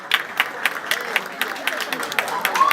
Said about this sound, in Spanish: Un aplauso para Magena.